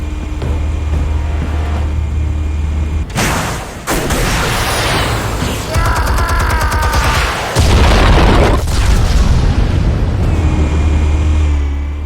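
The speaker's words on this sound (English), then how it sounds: "Explosives armed. Fire when ready." Explosives detonating in Batman: The Telltale Series, a loud booming blast with rumbling debris and a sustained roar after it, close and heavy, with no talking.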